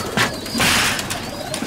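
Tumbler pigeons at a pigeon show, close and loud, with soft cooing calls mixed with bursts of fluttering wings and shuffling noise.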